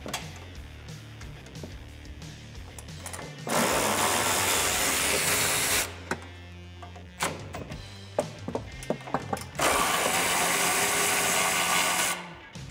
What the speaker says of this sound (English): we can make quick work of these two in the front with the electric ratchet.